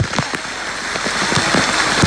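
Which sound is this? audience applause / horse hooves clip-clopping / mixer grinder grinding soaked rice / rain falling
rain falling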